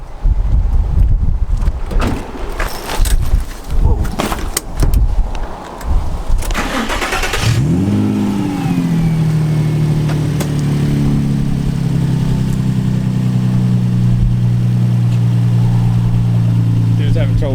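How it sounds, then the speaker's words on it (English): A car engine cranks and fires up amid clatter and voices, then settles into a loud sustained revving drone with a steady rising tone, as if building toward a burnout. "end the video with a burnout"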